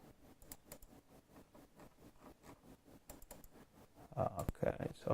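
Typing on a computer keyboard, a quiet, quick run of clicking keystrokes that grows louder and denser toward the end.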